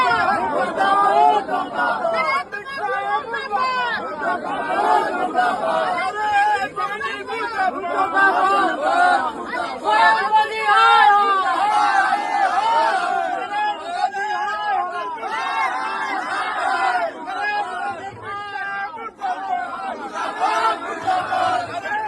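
A youth protest march moves along a street, a crowd chanting the slogan 'UGC go back' in loud, continuous, rhythmic shouts over steady babble, with no quiet breaks.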